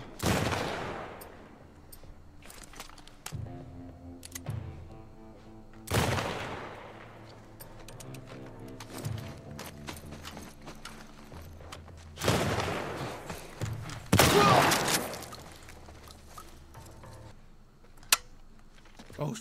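Bursts of gunfire ring out in The Last of Us Part 1, with sharp, loud shots and rapid volleys coming in several clusters over the stretch, separated by quieter moments.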